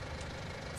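A tractor engine idles in Farming Simulator 19 with a steady, low, throbbing rumble, close and constant through the brief moment.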